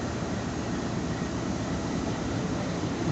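The locomotive of the Parbhani–Nanded passenger train drones steadily as it pulls away, a continuous low engine rumble heard from aboard the train, with no talking.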